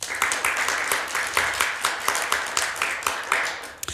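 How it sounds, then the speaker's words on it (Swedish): An audience at a Swedish panel event gives a steady round of applause, many hands clapping in a dense, moderately distant patter that continues for a few seconds with faint talk underneath. "Vi hälsar våra inledare med en varm applåd."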